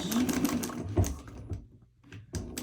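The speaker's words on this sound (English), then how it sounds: "You don't want to sew those corners, you want to sew around those corners." A sewing machine stitches around the corners of a fabric purse, close rapid mechanical whirring in short runs that pause briefly and restart, with no talking.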